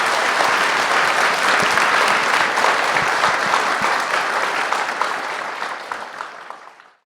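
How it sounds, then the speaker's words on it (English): A large audience at a university lecture hall applauds in a full, sustained round that stays dense, then tapers and fades out over the last two seconds. "So please give a big round of applause"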